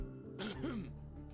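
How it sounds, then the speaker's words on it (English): A male character in the Love & DeepSpace video game gives one short throat-clearing cough to interrupt, quiet and close, standing alone. "He's about to speak when Maxwell interrupts him with a cough."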